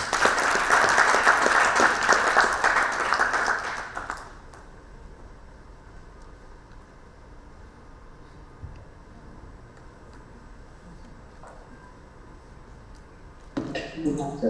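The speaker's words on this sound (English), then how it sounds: "May I have a big round of applause?" Big round of applause from the audience at a national CSR summit inaugural and book release, loud and dense for about four seconds, then quickly dying away to a quiet room with faint noises before another burst of clapping near the end.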